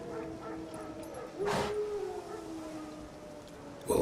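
Wild dogs in The Witcher 3: Wild Hunt bark and yip in the distance over an outdoor game ambience, one sharp bark standing out midway and another near the end.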